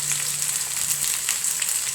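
Shallots and garlic fry in hot oil, giving a steady, close, crackling sizzle that holds throughout with no talk.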